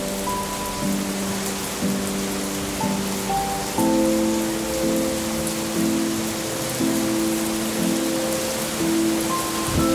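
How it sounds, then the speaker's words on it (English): Rain patters steadily on outdoor surfaces, a constant hiss of drops heard alongside a sustained tonal hum that shifts pitch, with no voices. "Just a little bit of rain."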